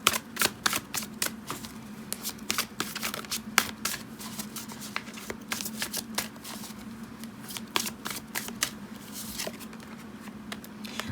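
Tarot cards shuffled by hand in a steady stream of soft, crisp riffles and flicks, close and fairly quiet, over a low steady hum with no talking.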